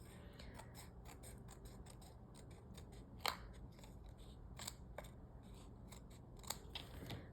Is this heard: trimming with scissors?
yes